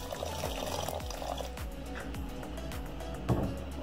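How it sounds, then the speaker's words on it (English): Water poured into a simmering chickpea channa sauce for doubles, a steady close liquid splashing and trickling with faint clinks of a pot, no speech. "So now we will add water."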